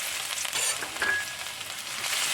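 Finely chopped garlic and ginger sizzle in hot oil for a curry, a steady soft frying hiss with light crackles and no talking.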